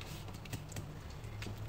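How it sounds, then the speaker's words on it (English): Scissors snip a small white piece of paper for a rainbow-fish craft, giving a few quiet, crisp clicks over a soft steady background. "I can get my scissors. And then I'm going to snip this little white off."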